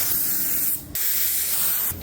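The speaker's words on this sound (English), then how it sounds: "I'll fill the gun up and spray" A spray gun hisses out a steady, broad spray of paint onto a 1973 Dodge Dart, stops briefly, then hisses again for another long pass, close and loud.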